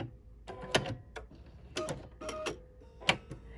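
An embroidery machine knotting and then cutting its thread, giving a few sharp, close mechanical clatters and clicks in short bursts with quiet pauses between them.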